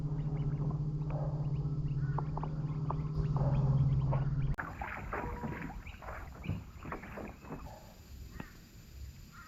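A kayak paddled across calm, windless water during a training camp, with soft rhythmic strokes and splashes close by, alone without talk, and a steady low hum early on.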